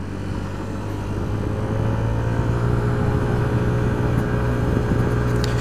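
Yamaha X-Max 125 scooter engine while riding, a steady loud drone with a low hum that holds constant throughout, rough and continuous with no talking over it.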